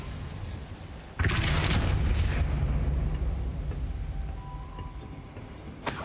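Spell effects in the Hogwarts Legacy video game: a sudden loud fiery burst that roars for a couple of seconds and slowly fades, followed by a short thump near the end.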